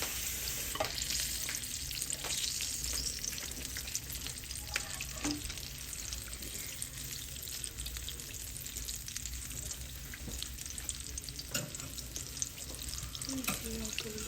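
Apple fritters fry in hot oil with a continuous sizzling crackle, occasional louder pops and sharp spits, joined by faint clinks and stirring.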